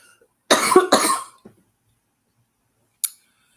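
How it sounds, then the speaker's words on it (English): Two harsh coughs in quick succession, close and loud, followed by a short pause and a small click. "sorry, I had to cough again."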